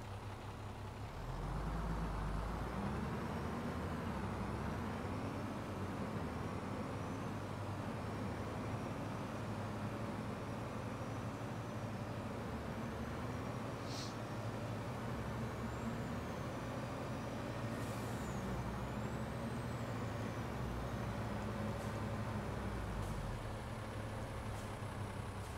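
A grain truck unloads in Farming Simulator 22 while its heavy engine idles in a deep, steady rumble that runs unbroken from start to finish, with no talking.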